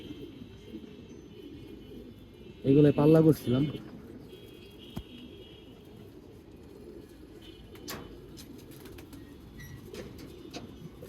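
A pigeon brought back from a six-side pigeon tournament in Mirpur gives a brief rolling coo, loud and close, while someone talks nearby.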